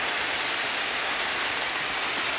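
Pork and cabbage browning in a pan while being stirred, giving a steady, dense sizzle like rain that runs evenly throughout without pause.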